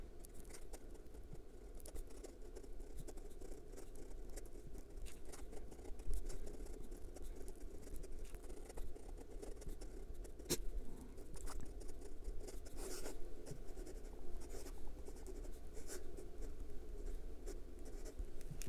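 A 1948 Parker 51 Vacumatic fountain pen with a fine nib scratches steadily across paper while writing out a quote, a close, continuous soft scribbling with small pauses.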